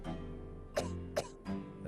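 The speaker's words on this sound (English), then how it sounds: "Besides the cough." Three short, dry coughs from a character in the Ace Attorney video game, evenly spaced over a couple of seconds, with soft game background music underneath.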